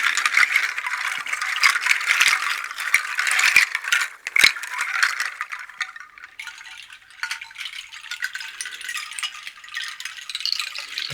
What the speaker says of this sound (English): I have a couple different chimes back here that I can take off